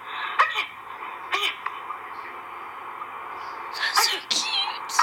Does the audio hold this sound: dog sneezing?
yes